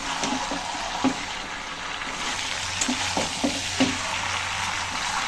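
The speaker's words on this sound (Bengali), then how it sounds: "সুন্দর করে আবার আমি সব কিছু দিয়ে একসাথে কষিয়ে নেব।" Green jackfruit and prawns sauté together in a pan, a steady moderate sizzle broken by a few soft knocks of a spoon stirring against the metal.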